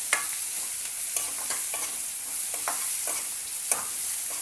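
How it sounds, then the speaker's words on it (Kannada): Turmeric being stirred into the tempering for a radish buttermilk sambar in a pan, a soft steady sizzle with repeated light scraping strokes of a spoon, close and fairly quiet. "ಈಗ ಒಂದು ರೌಂಡ್ ಚೆಂದಾಗೆ ಮಿಕ್ಸ್ ಮಾಡ್ಕೋಬೇಕು"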